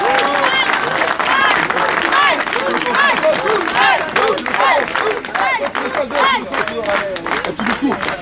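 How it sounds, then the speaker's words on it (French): A crowd gathered outside a shop for a support rally applauds in a dense, loud, steady wash of clapping that runs the whole way through, with scattered voices and cheering mixed in. "on s'applaudit tous"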